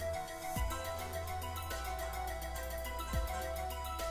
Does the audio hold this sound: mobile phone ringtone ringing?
yes